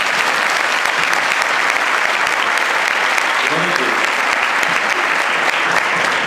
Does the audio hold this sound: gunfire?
no